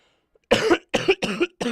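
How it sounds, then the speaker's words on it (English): A person with a cold coughs four times in a quick, rough series, each burst harsh and close, with brief pauses between them. "I have a horrible like cough and stuff."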